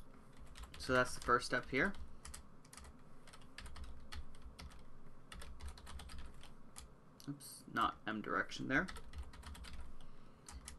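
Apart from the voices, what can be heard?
typing on a computer keyboard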